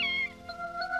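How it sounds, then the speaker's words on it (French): A cat meows once in a house, a short, fairly faint, tonal cry heard alone. "Il n'arrête pas de faire miaou."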